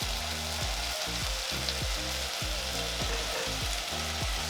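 Boiled githeri of beans and maize sizzles loudly as it is added to frying potatoes and carrots, a steady close hiss with a fast rhythmic stirring or scraping pattern underneath.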